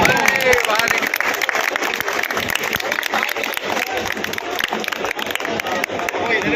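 Loud, dense applause from a crowd at a retirement ceremony for a railway station union branch president in Kanpur, sustained throughout with scattered voices mixed in.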